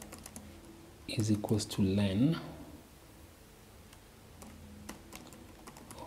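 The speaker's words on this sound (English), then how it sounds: "I'm even typing slowly." Keys clatter on a computer keyboard in slow, uneven bursts of taps while someone types Python code, quiet and close, with someone speaking briefly over the middle of it.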